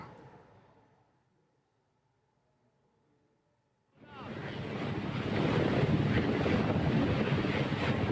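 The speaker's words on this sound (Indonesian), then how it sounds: "Tim evakuasi dengan menggunakan helikopter Super Puma akhirnya berhasil melakukan evakuasi korban kecelakaan helikopter di Bukit Tamiai melalui jalur udara." Super Puma helicopter flying during a mountain evacuation at Bukit Tamiai, arriving as a sudden loud, continuous roar of rotor and wind that starts midway and holds steady after a near-silent stretch with faint hum.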